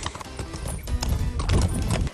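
A horse climbs a steep, rocky trail near Cabrières, its hooves clip-clopping in an uneven, close rhythm over a background rumble, with a brief whinny-like sound mixed in.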